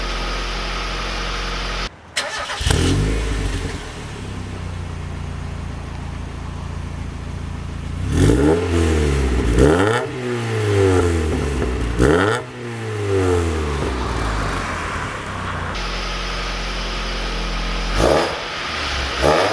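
A Mazda Miata engine with a Focus ST muffler idles with a throaty exhaust note, then revs up and down several times in quick swells before settling back to idle.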